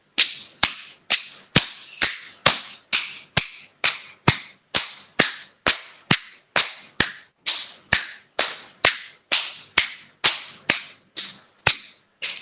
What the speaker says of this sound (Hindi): चलिए आगे पीछे का ताली वादन करेंगे